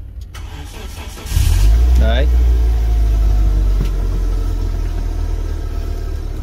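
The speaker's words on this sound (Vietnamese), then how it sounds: "giờ chúng ta cùng để lổ máy chiếc xe này lên" A compact imported automatic car with a 1.4 engine cranks and catches, then settles into a steady, smooth idle close by, with someone talking briefly over it.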